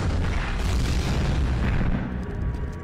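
Loud booming gunfire from a shooting scene in a cartoon animation, a dense continuous blast of rumbling noise that fills the whole moment before easing slightly.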